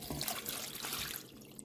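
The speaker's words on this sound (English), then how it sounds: "And I pour some water in there." Water poured over raw pork in a bowl to wash it before air frying, a soft close splashing and trickling that tapers off quietly toward the end.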